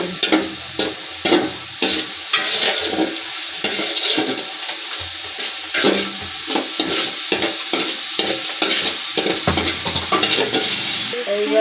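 Spices, salt and turmeric fry in a pot for khichuri while a spoon stirs them, giving a loud, close sizzle with frequent scraping strokes in an uneven rhythm.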